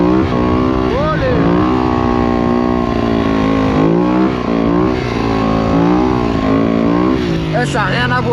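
A motocross bike rides through city streets, its engine droning steadily up close and revving in repeated rising and falling sweeps throughout.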